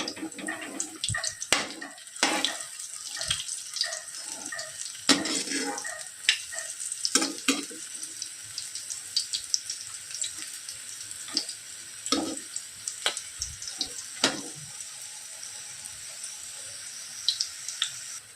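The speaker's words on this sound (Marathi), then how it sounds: "ह्या छोट्या मिरच्यांची पण एक साईड तळून झालेली आहे ह्या पण आपण आता पलटी करून घेऊ" Small green chili fritters (mirchi bhaje) fry in hot oil with a steady, close crackling sizzle. Sharp pops and clatters of a utensil cut in now and then as the fritters are turned.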